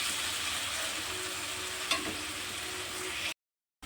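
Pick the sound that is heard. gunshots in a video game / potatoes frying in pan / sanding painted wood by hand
potatoes frying in pan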